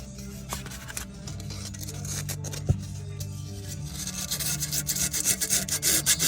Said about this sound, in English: So now here's the emery cloth. It's 1 inch wide, just sandpaper.